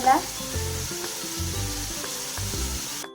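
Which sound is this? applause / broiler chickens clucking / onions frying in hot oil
onions frying in hot oil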